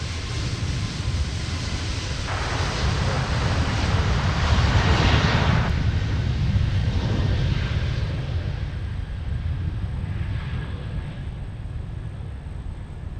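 An airliner taking off from runway 17 at Minneapolis–Saint Paul airport, a loud sustained engine roar that swells in the middle and slowly fades toward the end.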